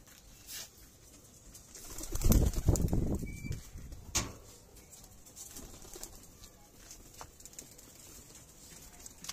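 Pigeons coo softly in a loft or cage, faint low calls with scattered pattering and shuffling of feet and wings, plus a brief louder rustle in the middle; no speech.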